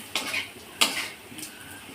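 Bitter gourd and prawns being stirred in a pan, with a few scattered scrapes and clinks of a utensil against the metal, one sharper knock near the middle, over a faint low sizzle.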